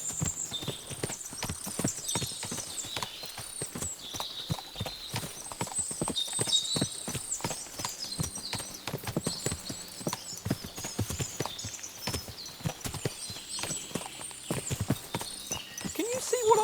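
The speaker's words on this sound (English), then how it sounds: "What a lot of horses." Many horses' hooves clip-clopping in Kingdom Come: Deliverance II, a dense, continuous patter of hoofbeats with brief whinnies and birdsong above, fairly close and steady throughout.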